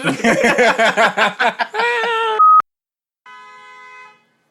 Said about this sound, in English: I'm glad that honk was there